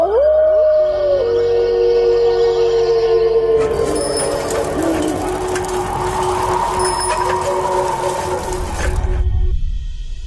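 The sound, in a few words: dogs howling outside a window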